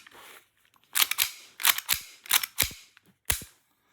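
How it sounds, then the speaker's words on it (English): An EMG Staccato C2 airsoft pistol has its slide racked by hand, giving a series of sharp metallic clacks in quick pairs, close and crisp, followed by a single final snap, with no talking. "cocking the pistol back works fine"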